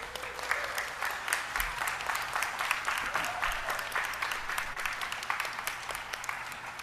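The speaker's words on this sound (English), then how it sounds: "please give yourselves a round of applause" Sustained applause from an audience at a government announcement event on banning cosmetic testing on animals, dense steady clapping filling the room for several seconds with no speech.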